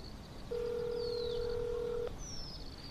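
A telephone dial tone sounds steadily for about a second and a half and then cuts off abruptly as a call is placed, with faint background hiss and no talking.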